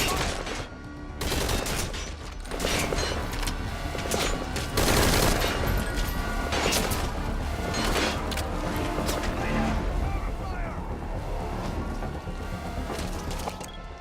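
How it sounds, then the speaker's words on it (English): Heavy, sustained gunfire in the stealth action game Metal Gear Solid V: Ground Zeroes, with rapid automatic bursts and crashing impacts layered into a dense, continuous barrage. "Need suppressing fire! Open fire!"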